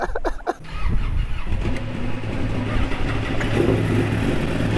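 A Ducati 899 Panigale motorcycle engine at a bike night, a steady close rumbling idle that builds slightly, following a short burst of noise at the start.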